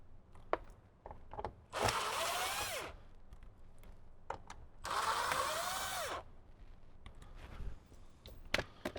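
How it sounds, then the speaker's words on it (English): A power drill backs out screws holding the dash airbag on a Jeep JL Wrangler, two sustained whirring bursts a few seconds apart, close and loud, with small clicks and handling knocks between them. "we can go ahead and remove the 6 screws from the actual airbag"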